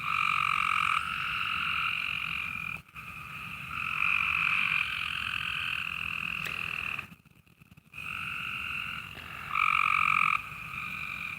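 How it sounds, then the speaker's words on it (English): Loud frog chorus croaking steadily and close by, a dense, continuous drone that drops out briefly a couple of times before swelling back. "And the frogs are loud."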